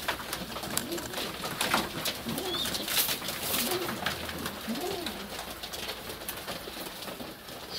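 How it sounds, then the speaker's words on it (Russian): A flock of about thirty-five domestic pigeons coos in winter, soft throaty rolling calls overlapping steadily, fairly near but quiet, with faint rustling and no talk. "Да замечательные голуби у меня тут."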